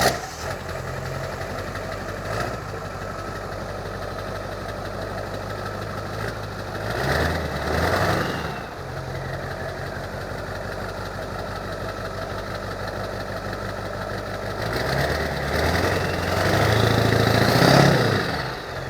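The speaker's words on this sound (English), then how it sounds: "there was a brief clip of the exhaust on startup" Ford 7.3 Powerstroke diesel pickup with an MBRP 4-inch aluminum mufflerless turboback exhaust, warm engine starting and idling in a driveway, a loud clattering rumble with a few brief revs swelling over the idle.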